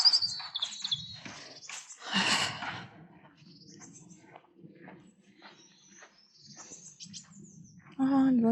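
Small birds chirp intermittently in a vegetable garden outdoors, faint high calls scattered through the clip beneath soft breathing and rustling, with a brief louder burst near the end.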